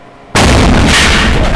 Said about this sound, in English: The explosion has had much more force than the researchers